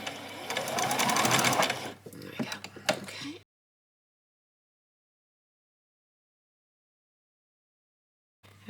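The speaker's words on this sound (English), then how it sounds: "I want that stitch to stitch right at the very edge of the fabric right here" A sewing machine runs a quick burst of stitching along a fabric hem for a child's dress, a close whirring hum lasting a couple of seconds followed by a few clicks, then silence with a brief sound at the end.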